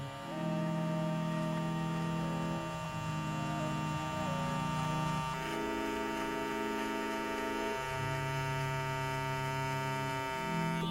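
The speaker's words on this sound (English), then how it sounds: "Now we're gonna grab our trimmers, and now we're just gonna go a little bit above the lips right there." An electric trimmer shapes a pencil moustache just above the lips, giving a steady, close, buzzing hum whose pitch shifts a few times as it moves over the hair, with no talking.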